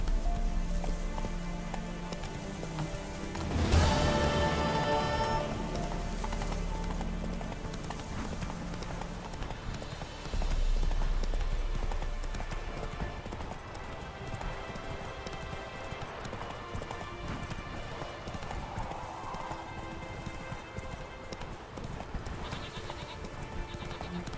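Hoofbeats of Roach, Geralt's horse in The Witcher video game, clip-clopping steadily in a rhythmic gait with a louder burst early on, set over a soft rainy ambient backdrop and faint background score.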